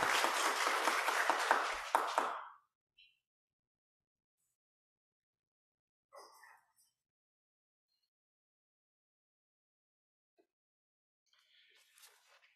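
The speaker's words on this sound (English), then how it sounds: "Give her an applause." A congregation gives a brief round of applause during a Sunday worship service, a quick burst of clapping of two or three seconds followed by near silence and a few faint stray sounds.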